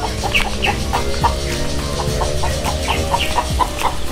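A busy flock of chickens, including young Shamo gamecocks, clucking together in a coop, overlapping calls and peeps repeating steadily, close and fairly loud.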